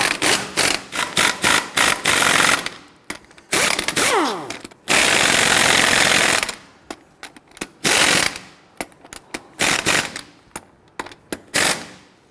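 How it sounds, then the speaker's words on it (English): An impact wrench snugging lug nuts down on a Hummer H3 rear wheel, loud close rattling bursts of varying length separated by brief pauses, some long and sustained. "Install them all, and we're going to snug them down gently in a crisscross pattern."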